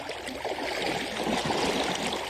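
Steady, broadband rush of the Feather River flowing over rocks, close and continuous with slight surges, no voices.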